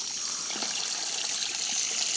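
A toy waterfall runs with a steady, soft trickling flow of water, continuous and close, with no talking over it.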